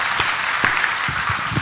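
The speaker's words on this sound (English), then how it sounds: "Can we get a round of applause for Al Gore, please?" Audience applause at the Defcon 21 hacker conference, a short burst of steady, dense clapping, loud and filling the room, with no clear talk over it.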